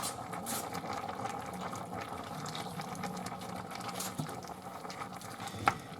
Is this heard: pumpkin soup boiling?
yes